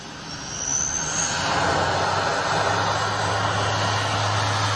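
Propeller airplane engine accelerating for takeoff, a broad steady roar that swells early and holds loud, with a low droning hum building underneath; no talking.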